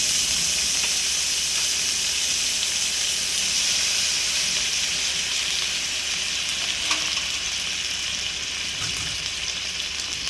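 Prawns stir-frying in hot butter and oil for an udang masala, a steady close sizzle and hiss running throughout with faint stirring scrapes and no talk.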